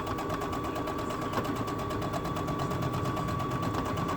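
A sewing machine stitches a welder cap band in a fast, steady mechanical rattle of rapid needle strokes, close and continuous throughout without a break.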